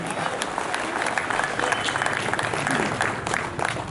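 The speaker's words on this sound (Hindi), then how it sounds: "पूरा सदन एक बार ताली बजाकर मुझे कविता के लिए" An audience claps together in applause at a Hindi poetry and satire recital, a dense, steady wash of many hands with sharper individual claps standing out, filling the room throughout.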